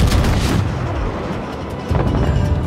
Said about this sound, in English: Targeting turrets 1 and 2! Fire!